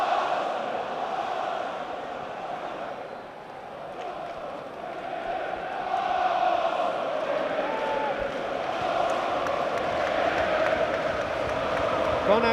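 Arsenal football crowd in their stadium during a Carabao Cup semi-final against Chelsea, a steady, broad roar of supporters filling the background at moderate level, swelling slightly in the second half.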